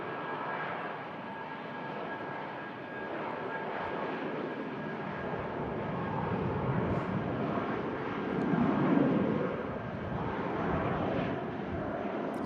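An Airbus A319 makes its takeoff roll at Manchester Airport, a steady distant engine roar that slowly builds and peaks toward the end, with a thin tonal whine running through the rumble.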